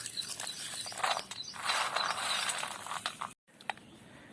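Cooled roasted peanuts rubbed by hand to loosen their skins, giving a soft, close, dry rustling and crackling that swells in the middle, stops briefly, then resumes faintly.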